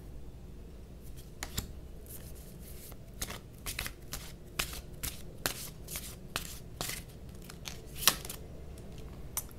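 Tarot cards being shuffled by hand, a series of crisp riffling snaps and flicks in irregular bursts, close and fairly quiet against a soft background.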